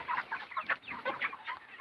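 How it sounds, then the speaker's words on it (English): Chickens being fed, with a flock clucking and chattering in several overlapping calls throughout, fairly close and moderately loud, with no voices. "we are feeding our chickens"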